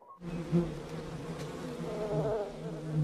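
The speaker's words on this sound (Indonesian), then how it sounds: "karena sudah tidak tahan akan lebah yang menempel pada dirinya" Bees swarm around a man, their dense, droning buzz continuous and close throughout, rising and falling slightly in intensity as they circle.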